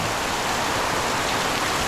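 Heavy rain pours down in a steady, dense roar with no breaks, loud and close, and no voices over it.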